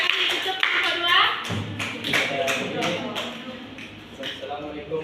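Scattered hand clapping from a small group, sparse and uneven, mixed with chatter and room noise.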